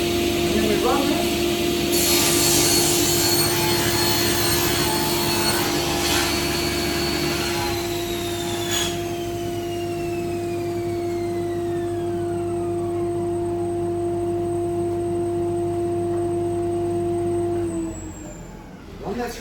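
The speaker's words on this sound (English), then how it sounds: "Run that through the saw. And it does a really nice cut." A powerful power saw runs steadily while cutting square timber, a loud sustained whine with a strong steady tone and woody rasping, then winding down near the end.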